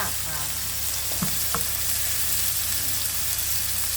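Prawns frying in oil in a covered pan, a steady close sizzle throughout with a couple of faint clinks, no talking.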